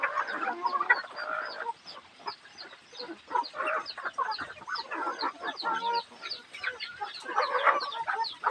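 Several chickens cluck and murmur close by in an uneven, continuous chatter, with no one speaking.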